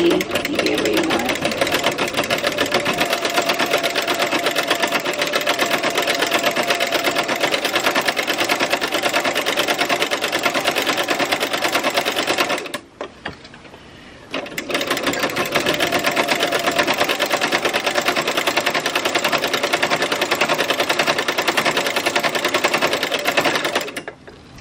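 A sewing machine set to a stitch length of 6 runs steadily, sewing ruffles into fabric with a continuous rapid mechanical whir, then stops briefly before starting again and running at a constant, close and loud level.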